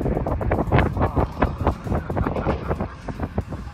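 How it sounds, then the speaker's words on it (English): Cold wind gusting across a lake while fishing, buffeting close to the microphone in rapid uneven rumbling thumps that stay loud for the whole stretch, with no talking. "It's cold, it's windy"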